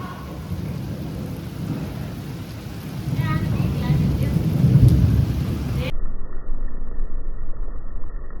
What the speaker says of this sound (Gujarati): કેવી વીજળી આવી